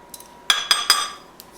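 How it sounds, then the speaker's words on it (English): A tablespoon of shredded soap goes into boiling water, heard as three sharp, close metallic clinks of a spoon against a container in quick succession, then fading ringing. "to that, I'll add 1 tablespoon of my shredded soap"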